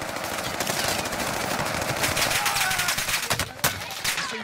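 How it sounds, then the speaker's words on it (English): Rapid automatic gunfire in the Warzone battle royale game, a dense sustained burst with a sharper crack near the end, loud and close. "Receiving hostile fire."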